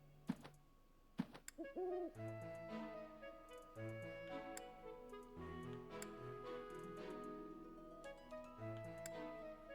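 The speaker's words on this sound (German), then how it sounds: "Da ist die Eule wieder." An owl hoots in the video game Fire Emblem: Three Houses, a short rising call heard a couple of times over a busy layer of game music with tonal chimes and ticking accents throughout.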